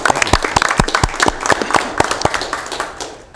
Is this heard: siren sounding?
no